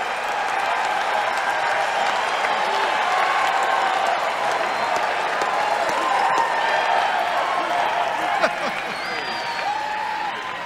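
A large political rally crowd applauding and cheering at a speech, sustained dense clapping with scattered shouts and whistles, loud and steady throughout.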